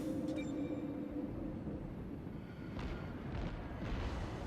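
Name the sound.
ship guns firing at an enemy in a naval video game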